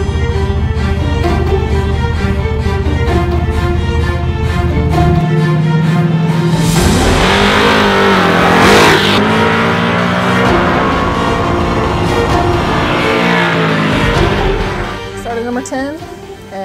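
Heads-up drag racing cars at a street-style event launching and accelerating against a Fox Body Mustang, engines roaring loud and close with rising revs and a passing surge, under steady talk.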